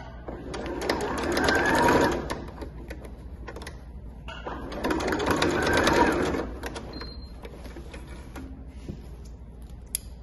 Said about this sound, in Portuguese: eu vou subir 1 centímetro pra cima dessa costura que a gente fez